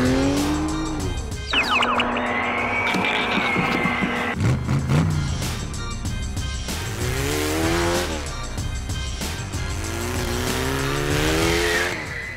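Video game cars race and drift, with engines revving up and down, tires squealing through skids, and steady loud motor noise throughout, no talking.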